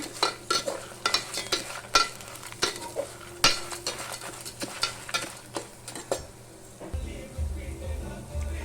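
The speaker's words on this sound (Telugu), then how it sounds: "ఇలా కలుపుతూ ఉంటే కందిపప్పు గోల్డెన్ కలర్లో రావాలి." Toor dal roasts in a pan on low heat while being stirred, with repeated close scraping strokes of a spoon against the pan over a soft frying hiss, ending in a steadier low rumble.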